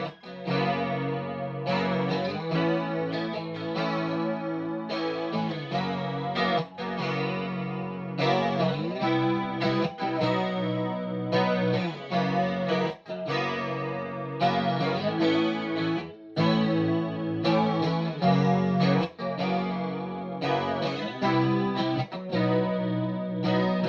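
A 2016 G&L Asat Classic electric guitar played through a chorus effect, with shimmering, wavering strummed chords and picked notes ringing steadily and close for the whole stretch, no voices.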